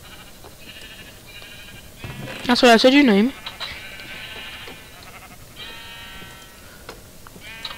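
A Minecraft sheep gives one loud, wavering bleat up close, amid soft background chatter and game sounds, with people talking around it.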